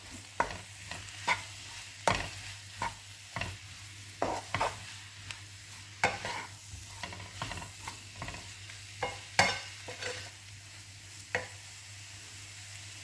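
Spiced stuffing mixture stirred in a frying pan for stuffed courgettes, with repeated scraping clinks of the utensil against the pan at an irregular rhythm over a low steady background hum, close and moderately loud.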